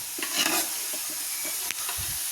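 Onions sauté with curry leaves and mustard seeds in a pan, a soft steady sizzle broken by light stirring scrapes and a sharp pop, close and fairly quiet.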